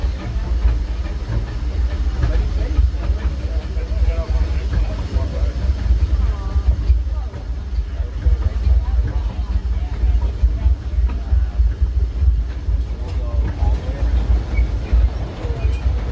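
A steam train on the Disneyland Railroad rumbles steadily along the rails with a continuous hiss of steam, a low mechanical drone throughout, and faint voices in the background.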